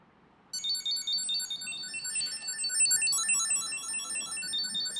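An ESR MagSafe wallet tracker plays its locator sound: a loud, bright electronic chime pattern of repeating high tones starting abruptly after a short silence and continuing steadily to the end.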